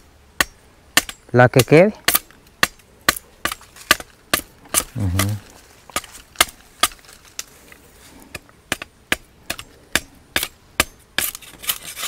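A machete hacks through sugarcane outdoors in rural scrubland, sharp woody chops landing in a steady rhythm of roughly two per second. Brief speech is heard between the strikes.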